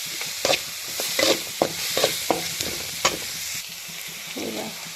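Onion frying in a pan for egg rice, a steady close sizzle broken by repeated scraping stirs of a spoon against the pan at a slow, uneven rhythm, with no talk.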